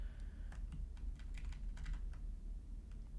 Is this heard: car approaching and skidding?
no